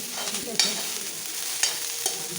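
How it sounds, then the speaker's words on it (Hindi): Onions, garlic and fennel fry in a pan with a constant close hiss and sizzle, broken by a few soft scrapes and clinks of stirring. "लहसुन डाल दिया और ये प्याज, इनको मैं अच्छे से फ्राई कर लूँगी"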